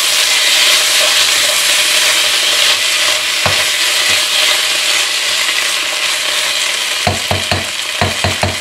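Onions frying in a pan for onion soup sizzle steadily with a hiss, and a utensil stirs them, scraping and knocking in a cluster of sharp taps near the end. No one speaks.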